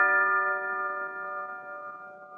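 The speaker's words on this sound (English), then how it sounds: "McGee, that was the doorbell." A doorbell chime rings once with a clear, sustained metallic tone that slowly decays, heard alone in a quiet room.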